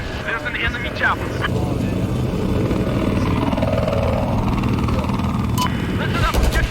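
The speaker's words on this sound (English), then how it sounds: "There's an enemy chopper." An enemy helicopter in Battlefield 4 gives a steady, loud rotor drone in the game sound, continuous throughout, with scattered game effects and a player talking over it.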